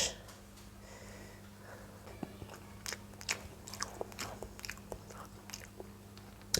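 Someone eats cup noodles with a spoon: soft, irregular chewing and slurping clicks scattered over a low steady hum, close and quiet.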